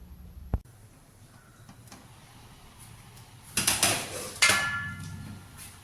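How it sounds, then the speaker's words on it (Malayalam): A metal lid set down over a cooking pot of taro stems, a sharp clink followed by a burst of clattering metallic rattles of pot and lid, close and fairly loud. "ഇത് നമുക്കൊന്ന് മൂടി വയ്ക്കാം"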